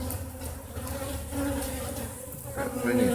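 Honey bees on a hive frame of a horizontal Langstroth hive, a close, continuous buzzing hum with wavering pitch and no talk.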